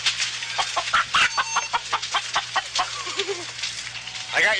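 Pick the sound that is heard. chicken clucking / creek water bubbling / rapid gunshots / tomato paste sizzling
chicken clucking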